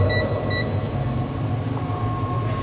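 Two short, high electronic beeps in quick succession come from a digital multimeter switched to buzzer continuity mode, heard close over a steady low background hum.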